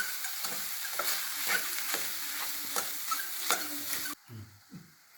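Boiled cassava being mashed and stirred by hand, a rhythmic series of soft squelching, scraping strokes repeating about once a second, close and steady, with a brief quieter pause near the end.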